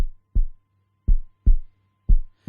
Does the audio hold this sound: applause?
no